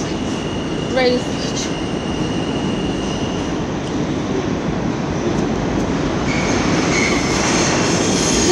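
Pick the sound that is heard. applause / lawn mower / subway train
subway train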